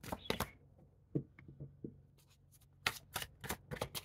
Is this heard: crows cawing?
no